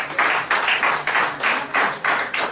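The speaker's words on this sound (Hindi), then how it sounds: "एक दो ताली" A seminar audience at a Gano therapy talk claps together in a steady unison rhythm of about nine crisp claps, evenly spaced, welcoming a participant, with no speech over them.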